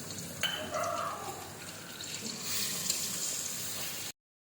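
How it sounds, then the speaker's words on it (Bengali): Onion paste for biryani dropped into a hot pan, with a sudden hiss that settles into steady close sizzling and frying for a few seconds before cutting off. "এটার জন্য দেওয়া হচ্ছে পেঁয়াজের পেস্ট।"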